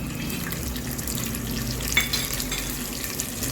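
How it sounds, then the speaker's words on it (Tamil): Mustard seeds fry in hot oil, a steady close sizzle with a single brief crackle or pop near the middle and no voices, as a kovakkai masala gets started. "எண்ணெய் காய்ஞ்சதும் கொஞ்சம் கடுகு சேர்த்துக்கலாம்"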